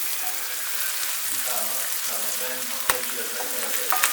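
Purslane and onions sauté in oil, a close, continuous crackling sizzle with a couple of sharp utensil taps near the end.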